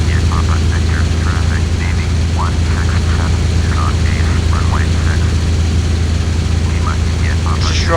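A WWII propeller fighter plane in a flight game, a P-40 or F4U-1D Corsair, drones with a loud, steady engine roar throughout as it flies toward a landing approach.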